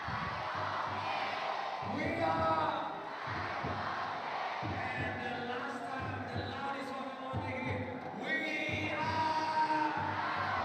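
A basketball crowd in an arena giving a standing ovation at a semi-final game, a broad sustained roar of cheering with irregular shouts and swells, steady and loud throughout.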